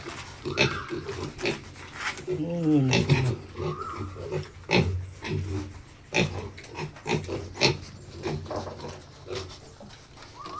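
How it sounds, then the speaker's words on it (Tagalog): A litter of thirteen healthy piglets grunts and squeals close by in a concrete pen, a busy run of overlapping oinks and short high squeals continuing throughout. "13 lahat ito ng mga biik"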